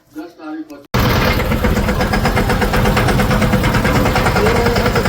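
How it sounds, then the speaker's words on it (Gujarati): A tractor engine idles loudly and steadily close by after a brief burst of talk at the start, its low rumble continuing unbroken. "તો આપણું ટ્રેક્ટર અહીં ઊભું છે અને આપણે ટીનોભાઈ હાંકવાના છે"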